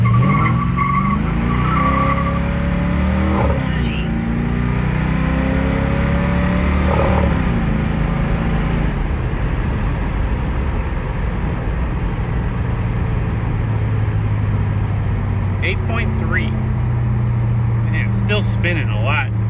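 A Chevrolet El Camino with 3.73 gears launching for a 0-60 run, engine roaring loudly up through the revs with tires spinning, heard from inside the car, with a voice speaking over it.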